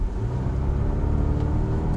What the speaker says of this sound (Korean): 4기통 특유의 비교적 거친 음색이 실내로 적잖이 유입이 되고 있고요